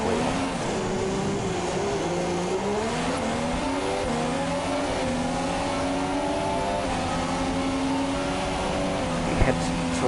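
An F2 race car at the Monaco Grand Prix, its engine whining loud and close as it climbs and shifts through the gears, holding a steady high revving drone with a commentator talking over it.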